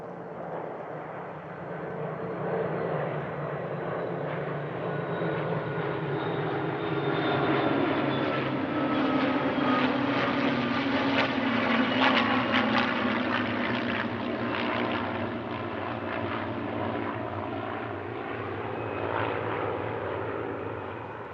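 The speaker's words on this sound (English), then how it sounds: "The highlight of Friday was a 10-ship formation and tailchase practice" Ten vintage aircraft fly a formation tailchase at the Duxford Battle of Britain Airshow, their propeller engines making a loud, continuous drone that swells and fades as they pass overhead, with no voices.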